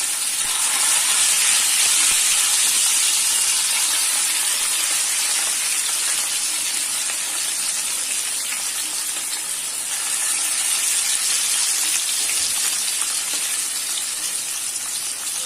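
Masala-coated ayila mackerel frying in hot oil, a steady, loud, close hiss and sizzle that holds evenly throughout without speech.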